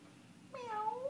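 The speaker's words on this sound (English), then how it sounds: "Meow, Smokey, meow." Low room hush, then a single clear cat meow rises and holds about half a second, close and fairly loud.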